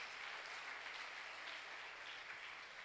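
Steady applause from a church congregation, a dense continuous patter of many hands clapping at even loudness throughout, with no voices standing out.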